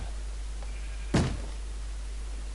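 A single heavy thump of a door being kicked in a Minecraft game, one loud broadband impact standing alone against a steady low background hum, with no talk over it.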